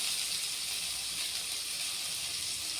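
Chopped onions and green chillies fry in hot oil with cumin, a steady close sizzling hiss that stays even and unbroken throughout, with no voices.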